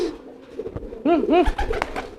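A free-flying kolong pigeon coos loudly in a rolling, throaty burst of several repeated calls close to the microphone, with softer bird sounds before and after.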